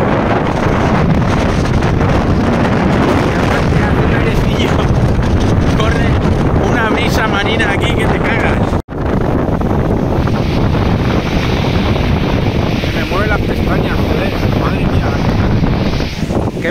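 Seawater surges and splashes up the rock cliffs at San Juan de Gaztelugatxe, a loud, continuous roar of waves and spray buffeted by heavy wind noise on the microphone, with a brief drop-out midway.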